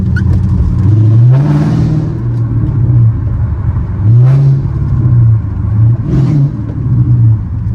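A Dodge Challenger SRT8 392 Scat Pack rumbles loudly nearby through its exhaust pipes, rising in a few revving surges over a steady, throaty idle.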